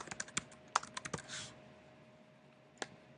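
Keys clatter on a computer keyboard as a document name is typed, a quick run of close, crisp clicks for about a second, then a pause and one last keystroke.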